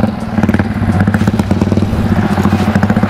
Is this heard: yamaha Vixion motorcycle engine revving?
yes